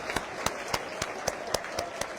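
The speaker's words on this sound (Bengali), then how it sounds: "জোরে একটা হাততালি হবে ঈশার জন্য।" Hands clap in a steady, even rhythm, about four sharp claps per second, at an SSC 2025 student award reception ceremony, with no talking over them.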